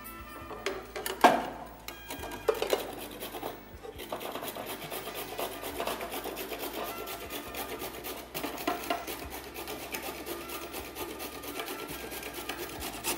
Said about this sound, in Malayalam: പാല് തിളക്കുമ്പോഴത്തേക്ക് നമുക്ക് ക്യാരറ്റ് ചിരണ്ടി എടുക്കാം.